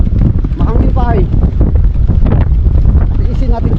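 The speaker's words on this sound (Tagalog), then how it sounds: "Mahangin pa ay." Strong wind buffets the microphone in a continuous low roar outdoors on a fishing trip, with people talking over the gusts throughout.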